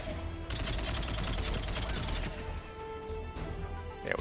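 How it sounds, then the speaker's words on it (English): Gunfire in the video game Mass Effect 3: rapid, loud bursts of weapon fire that crackle in a dense, continuous rattle, easing slightly toward the end. "We're just gonna keep firing at these assholes."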